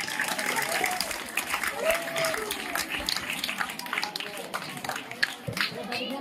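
Schoolchildren at a school event in Markapuram mandal, Prakasam district, applaud in a moderate, rippling burst of clapping that continues under a speaking voice for about six seconds.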